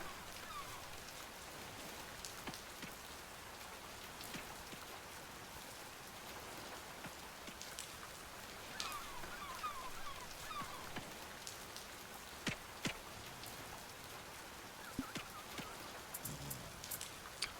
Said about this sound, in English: Day 4 begins. And it's rain.